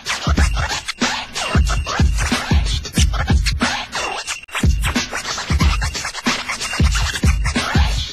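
Rapid rhythmic DJ scratching on a vinyl record, sharp back-and-forth squeals and swipes repeating in quick bursts, loud and close.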